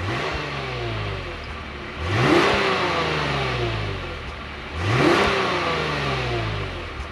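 A 2022/2023 Lexus IS350 F-Sport AWD V6 accelerates on the road, its engine note climbing steadily and dipping at two quick gear changes. The sound is close and continuous, with no talking.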